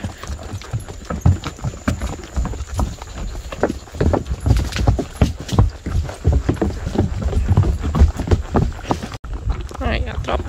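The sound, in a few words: horses trotting, hooves clip-clopping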